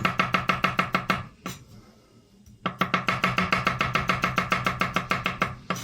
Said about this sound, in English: I got some garlic here. Just going to really thinly slice it.